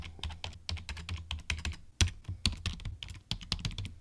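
Typing an IP address and folder name on a computer keyboard: a rapid, close run of crisp key clicks at uneven rhythm, with a few harder keystrokes standing out, no voices.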